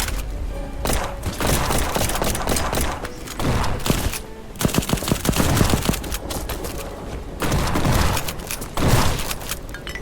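Heavy gunfire from the video game Black Skylands: dense bursts of rapid shots and booming thuds fill the whole stretch, loud and close, with brief lulls between volleys and no talk.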